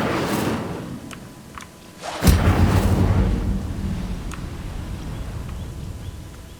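Incendio fire spell cast in Hogwarts Legacy, a sudden loud whooshing burst that swells into a deep roaring rumble of flame, then slowly fades, with faint ambient game sounds around it.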